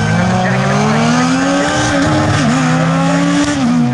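A 1970s-style Opel Manta rally car engine roars at high revs at a stage rally at Cadwell Park, a steady loud drone with pitch rising and dipping as it accelerates and shifts, close by.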